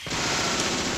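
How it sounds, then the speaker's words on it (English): Machine gun fire in Deadly Premonition, a short burst of rapid, rattling shots that starts abruptly and keeps an even, moderately loud pace for about a second. "Still like my machine gun too much."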